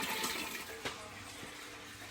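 Water runs from a tap inside an old milk house on a museum farm in Lake Geneva, a faint, steady splash and trickle heard from a short distance.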